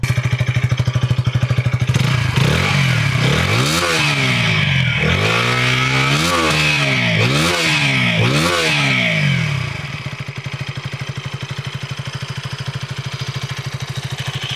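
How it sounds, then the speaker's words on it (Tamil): A 2025 KTM Duke 160 motorcycle with an underbelly exhaust idles, then is revved in a series of sharp, loud throttle blips before dropping back to a steady idle, heard alone up close. "எக்ஸாஸ்ட் நோட் வந்து கேட்க போகிறோங்க"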